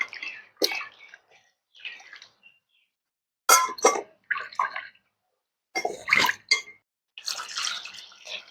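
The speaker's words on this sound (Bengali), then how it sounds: "সবগুলো কেটে নিয়েছি, এখন জল দিয়ে ধুয়ে নেব।" Cut spine gourds (kakrol) being rinsed with water by hand in a bowl, making bursts of splashing and sloshing separated by short pauses, close and fairly loud, with no talk.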